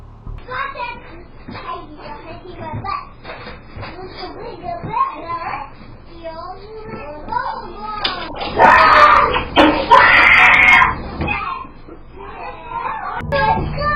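A child screams in a reportedly haunted setting, a loud burst of shrill cries lasting a few seconds midway, surrounded by murmuring voices and background noise.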